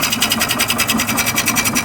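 Rapid, steady mechanical whirring and rubbing from an engine fitted with 96mm big bore pistons, a fast even pulsing chatter that runs continuously up close and fairly loud.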